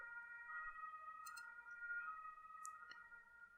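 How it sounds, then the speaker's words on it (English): Faint emergency vehicle sirens wailing in the distance, steady sustained tones with a few soft clicks, no talk over them. "sirens are so loud here."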